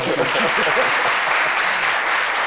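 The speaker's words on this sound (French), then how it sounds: "On applaudit, c'est pour ça." Audience applause at a French-language talk show event, a steady wash of many hands clapping throughout, with voices faintly mixed in underneath.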